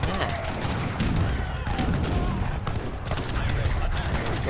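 An army fires muskets while cannons shell buildings in Age of Empires 3, a dense, continuous crackle of volleys and booms that stays loud throughout.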